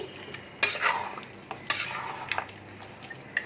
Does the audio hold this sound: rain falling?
no